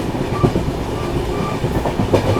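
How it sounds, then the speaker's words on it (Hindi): The 15658 Brahmaputra Mail running on Indian Railways track: a loud, steady rumble close by with rhythmic clickety-clack of wheels over rail joints. "थोड़ी देर में जो है अपनी ब्रह्मपुत्र मेल पहुंचने वाली है पंडित दीनदयाल उपाध्याय रेलवे स्टेशन पर"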